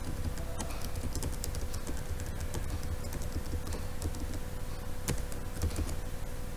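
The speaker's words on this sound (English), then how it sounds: "After right click, go to modify memory. Then here you type the data." Keys clatter on a computer keyboard while data is entered into memory during microcontroller lab work. The clicks come in irregular bursts over a constant background hum, fairly close and moderately loud, and no one talks.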